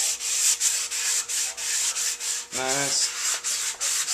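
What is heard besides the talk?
sanding two-part body putty on a motorcycle with 180 grit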